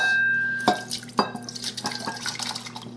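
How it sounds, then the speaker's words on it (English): Sour cherries and their juice are poured from a jar into a bowl, a couple of sharp splashes followed by a close run of dripping and liquid trickling. "I'm going to pour it in this jar, in this bowl, juice and all."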